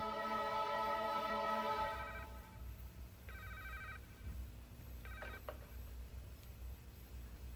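A telephone rings unanswered at a restaurant, with repeated electronic trills that are loud at first, then fainter bursts of ringing over a low background hum, and no voices.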